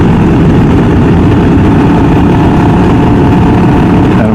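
A Can-Am Ryker 600 three-wheeler's engine runs steadily and loud throughout, a continuous droning rumble with no pauses and no talking.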